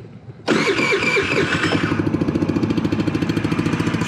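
Cold start of a Pony 50cc scooter engine, first start of the day: a brief crank, then a loud catch and rev that settles into a fast, steady puttering idle close by.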